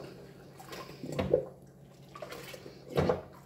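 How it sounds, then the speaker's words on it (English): An asthma spacer, its covers removed, is rinsed in warm soapy water, giving soft sloshing and dripping sounds with two brief splashy peaks, close and quiet. "and you rinse it in warm"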